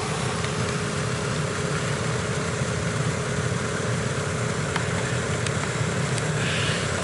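A car's heater blower motor runs steadily inside the cabin, giving a constant airy whoosh and hum with faint ticks. It plays alone, with no talk.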